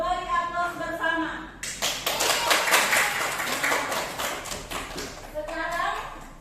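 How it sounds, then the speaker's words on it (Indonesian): A classroom of children applauding together in a school lesson, a dense burst of many hands clapping for several seconds, with speech before and after the applause. "Kita beri aplaus bersama."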